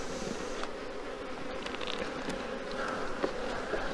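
Honeybees hum steadily at an opened hive, a dense continuous swarm drone close by and filling the space throughout.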